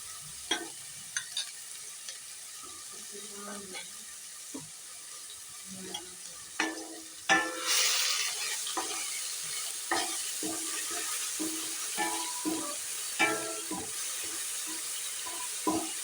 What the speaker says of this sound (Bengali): পেঁয়াজটা একটু ভেজে নেব হালকা করে।